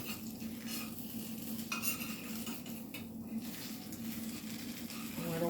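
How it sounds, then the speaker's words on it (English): French toast in a pan being turned with a utensil, soft scraping and clinks of metal against the pan over a steady frying sizzle. "this looks like it's ready to be flipped"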